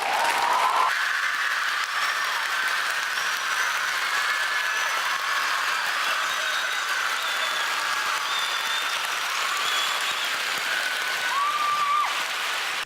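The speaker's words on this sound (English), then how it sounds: "the crowd, tasting blood in the water, began to roar at this" Town hall crowd roaring and applauding steadily throughout, a dense continuous wash of clapping and cheering at a loud, even level with no pauses.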